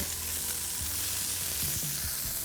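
Blue eye fish pieces fry in a pan, a close, steady sizzle with crackling spatter and occasional low clunks of pieces being set in, no talking.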